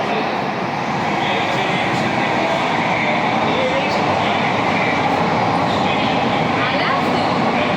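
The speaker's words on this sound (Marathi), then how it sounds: "इथे आमची ॲक्वा मेट्रो आलेली आहे" An Aqua Line metro train rumbles loudly and steadily nearby, a constant low roar with faint rail clatter and some background voices underneath.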